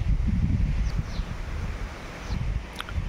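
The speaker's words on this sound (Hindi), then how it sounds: "देखिए हवा चल रहा है कितना सही" Gusty outdoor wind before rain buffets the microphone with a low, steady rumble, faint chirps and rustles coming through in the background.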